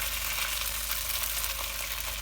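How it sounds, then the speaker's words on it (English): Noodles sizzle and fry in a hot wok for a Singapore noodles stir-fry, a steady close hiss with faint crackles and stirring, no talk. "you can hear it sizzle straight away"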